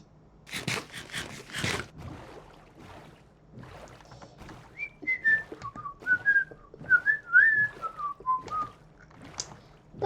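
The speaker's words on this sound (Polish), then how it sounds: "gwiżdżę sobie świąteczne piosenki" A person whistling Christmas tunes while rowing a boat in a Minecraft survival game, a wandering melody of short notes after a few breathy sounds at the start.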